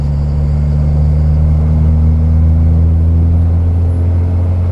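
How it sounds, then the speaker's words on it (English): A 5.9 Cummins diesel pickup truck with an S&B intake pulls steadily under boost, a loud, close, low droning rumble holding nearly constant through the stretch with faint turbo whine above it. "You'll actually be able to hear what the truck sounds like."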